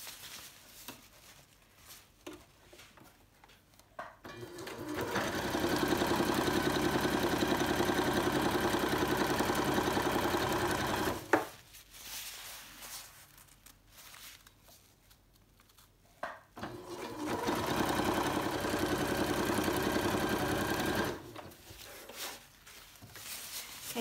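Sewing machine stitching across the top fabric of a drawstring bag, running in two steady sustained bursts of several seconds each, separated by a quiet pause.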